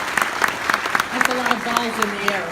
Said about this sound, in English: yes, you can applaud all of that